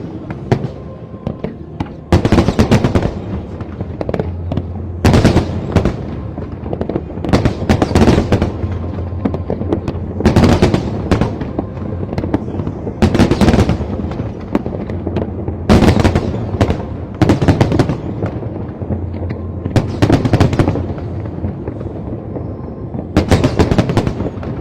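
Lunar New Year fireworks show in Hong Kong, 2024: loud, close bursts of crackling and booming shells in irregular clusters, with rapid rattling volleys between heavier blasts, continuing without pause.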